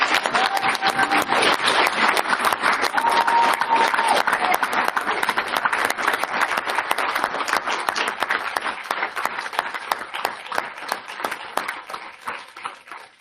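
Sustained applause from a large graduation ceremony audience, dense steady clapping that holds loud for several seconds and then gradually thins and fades out.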